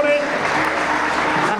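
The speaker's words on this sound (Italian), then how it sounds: "Fate un bel applauso a Muriel" Audience applause for Muriel, a public works councillor, at a Sardinian athletics festival in Guspini: dense, steady clapping throughout, with some crowd voices mixed in.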